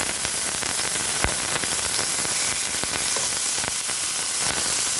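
Chopped onions sauté in hot oil with a dense, constant crackling sizzle, steady and close, broken by a few sharp pops and with no talking.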